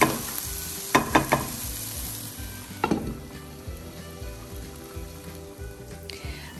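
Clam masala being stirred in a pan for Kerala-style clam thoran, with a few sharp spoon scrapes and clatters over a steady low sizzle, then quieter cooking noise.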